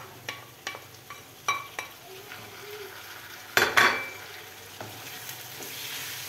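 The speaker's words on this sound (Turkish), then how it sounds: "Şöyle bir karıştırayım." Chopped tomatoes and garlic sizzle in a frying pan as a utensil stirs them, with several scraping clinks against the pan, one louder scrape, and a soft frying hiss underneath.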